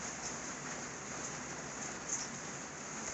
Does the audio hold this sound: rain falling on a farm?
yes